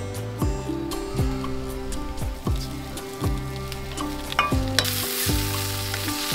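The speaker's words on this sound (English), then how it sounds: "Start this simple recipe off with just sautéing the mushrooms and green onions in some sesame oil." Mushrooms and green onions sautéing in sesame oil sizzle and get stirred in a pan, a steady frying hiss that is partly covered by rhythmic background music and brightens toward the end.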